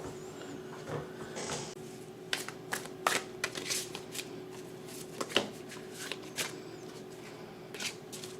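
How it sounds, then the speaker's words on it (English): Tarot cards being shuffled and drawn from the deck, close and crisp: a brief riffle followed by scattered flicks, slaps and sliding card sounds at irregular intervals over a quiet room hum. "I'm going to go ahead and start pulling more cards to see what else we can see about this situation."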